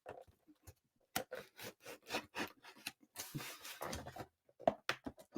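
Cutting open the sides of a package makes close, irregular rasping and scraping strokes, bursts of rough scratchy rubbing with short gaps, and no talking.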